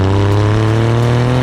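Exhaust note of an Alfa Romeo Giulia QV fitted with a carbon fiber lip and an exhaust insert with valve switching, a steady, loud, deep engine drone held close for a moment with no talk.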